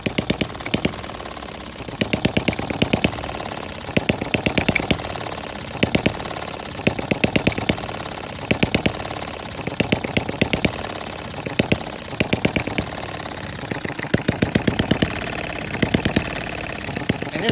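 Small gasoline engine with an unadjusted governor, running on four- or five-year-old gas, with steady uneven knocking pulses throughout, close and loud, and no talk.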